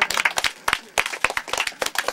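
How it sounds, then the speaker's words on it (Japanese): An audience at a small live music venue in Koenji, Tokyo, claps in a quick, dense practice round of applause, many hands near and uneven, with faint voices underneath. "じゃあこうやって拍手、はい。"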